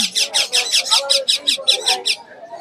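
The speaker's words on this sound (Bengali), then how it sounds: "এটা হলো টেম পাখি আচ্ছা। কথা বলতেছে এখন" A tame pet bird at Mirpur bird market utters a rapid series of about a dozen shrill, rhythmic squawking calls, loud and close, with faint market sounds beneath.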